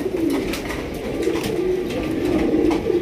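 Several pigeons, including a Dragon Beauty breed kept for sale, coo steadily throughout with low, rolling, overlapping calls close by, continuous with no talking.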